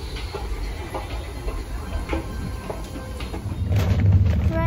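Steady rumble and hiss inside a moving passenger train bound for Austria from Italy, with faint rattling and clicks, the low roar swelling louder near the end.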